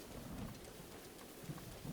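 A continuous wash of rainfall in the Zelda Breath of the Wild game world, a soft, steady patter without breaks and with no voices over it.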